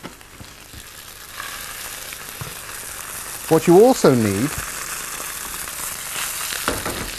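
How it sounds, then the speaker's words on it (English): Continuous sizzling of turkey escalopes, about 6 ounces each, frying in hot oil, heard beneath a man's speech, with a brief squeaky burst partway through. "you put the escalops, each of which weighs about 6 ounces, into some hot oil so they sizzle"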